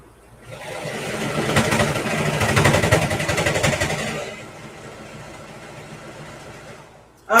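A Brother 1034dx serger stitches fabric for a bandana tote bag, a dense mechanical whir running steadily for about four seconds before easing to a quieter hum, ending with a brief loud knock.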